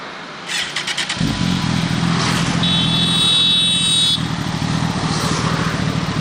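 A Kawasaki ZX-14R sport motorcycle engine starts and growls loudly at close range, a deep steady rumble with a rising rev in the middle.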